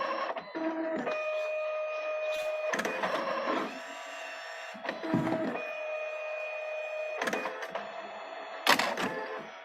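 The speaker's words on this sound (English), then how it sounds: "the printer is working feverishly" An ID card printer runs a loyalty card through its print cycle, giving a steady mechanical whir with a thin tonal whine, broken by several sharper clunks and feed motor bursts as the card advances. The sound is close and loud, with no speech.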